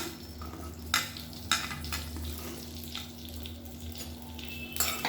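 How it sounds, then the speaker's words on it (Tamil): Cut okra stirred and sautéed in oil in a pan, a soft sizzle under a low hum with several sharp spatula scrapes and knocks against the pan. "இப்போ அதை சேர்த்துக்கலாம். சேர்த்து நல்லா வதக்கி எடுத்துக்கலாம்."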